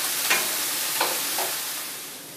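Vegetables sautéing in a pan for a wild rice pilaf, with a loud, steady sizzle and three short scraping stirs spaced through the clip.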